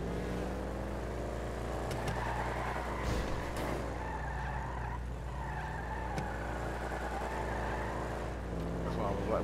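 In Grand Theft Auto V, a race car's engine hums and revs steadily under sustained tire squeal while drifting. Someone talks over it throughout.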